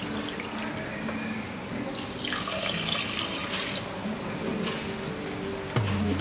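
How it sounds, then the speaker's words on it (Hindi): Water from a cup is poured into a pan of sugar on a gas stove to make sugar syrup. It gives a steady, continuous splashing trickle lasting several seconds, with a brief clink at the end. "इसमें डालेंगे हम ये 1 कप पानी"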